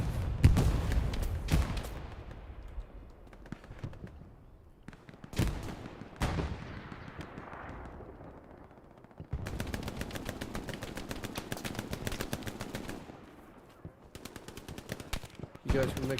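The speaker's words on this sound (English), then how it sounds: "Dodging the shots." Automatic and single gunfire in the WWII shooter game Hell Let Loose, loud bursts of machine-gun fire and rifle shots rattling continuously with brief pauses, heavy booms mixed in.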